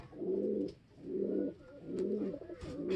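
A pigeon coos up close in low, soft, rolling phrases, three or four even swells in a row, with faint higher chirps from other birds in the background at a racing pigeon loft.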